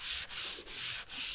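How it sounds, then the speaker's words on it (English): A cloth soaked in rubbing alcohol wipes back and forth along the bed rail of a 2019 Ram 1500 pickup, four brisk rubbing strokes close up with short pauses between them. "we want to use our rubbing alcohol and wipe down the area"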